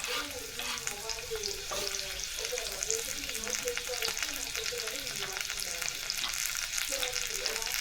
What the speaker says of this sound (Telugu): ఆనియన్స్ వేసుకోవాలి ఫస్ట్. దాంతోపాటు నేను కరివేపాకు కూడా వేసుకుంటున్నాను.